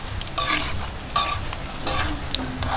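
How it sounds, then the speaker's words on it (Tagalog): Turon, banana spring rolls, fry in hot oil with a close, steady sizzle. Stirring or turning sends brighter crackling bursts through it at intervals. "hihintayin lang po natin mag golden brown itong ating mga turon"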